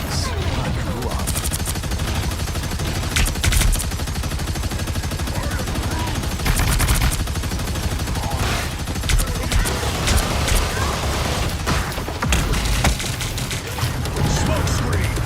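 Heavy weapons fire in the Marvel Rivals hero shooter, a loud, continuous barrage of booming shots and impacts that never lets up, with game voices mixed in.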